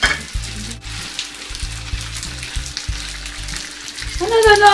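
Egg being mixed into hot carbonara noodles in a pan, with a steady close sizzle and soft scraping stir strokes, swelling louder in the final second.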